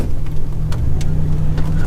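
A 1987 Buick Regal Turbo Limited engine roars at full throttle, loud and close throughout, with a deep steady drone and no talk.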